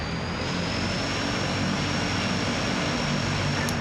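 A video game helicopter, a loud, steady, dense engine and rotor roar that stays constant throughout.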